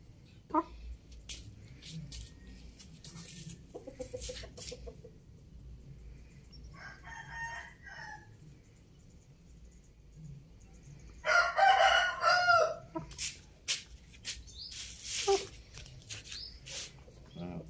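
A rooster crows loudly in a short burst partway through, with scattered chicken clucks and background talking throughout, as the chickens are vaccinated against fowl cholera.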